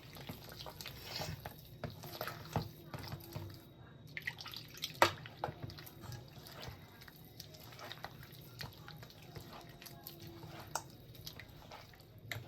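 Water trickles and drips little by little into rice flour batter for patishapta crepes, faint and close, with soft squishy stirring and small clinks between pours.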